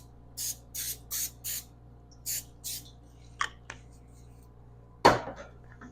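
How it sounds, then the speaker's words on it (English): Nonstick cooking spray hits a pan over oiled potatoes in several short bursts, a quick series of hisses, then a few clicks and a sharp clatter near the end. "We'll be adding some nonstick spray just to be sure."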